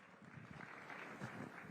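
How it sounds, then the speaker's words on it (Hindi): Audience applause welcoming actor, filmmaker and Member of Parliament Kangana Ranaut, a steady crowd clapping that holds at an even level through the short moment. "जोरदार तालियों के साथ अभिनंदन करिए"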